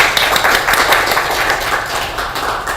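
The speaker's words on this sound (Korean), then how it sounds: "박수 한번 부탁드립니다." Audience applause at a Korean international tax association spring academic conference, a moderate patter of clapping from a small seated group, steady throughout and without talk.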